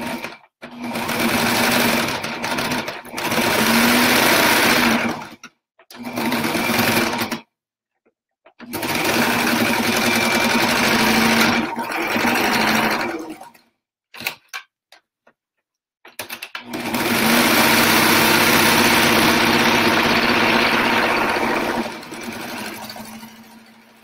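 A sewing machine stitches a pillow cover in loud bursts of rapid mechanical whirring, stopping and restarting several times, with a long continuous run near the end and brief silent gaps between.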